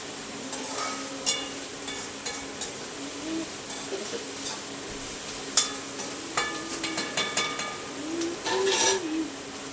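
Mixed vegetables for Schezwan rice stir-fried in a pan, with irregular metallic clinks and scrapes of a spoon against the pan over a steady low sizzle, close by, with a busier cluster of clatter toward the end.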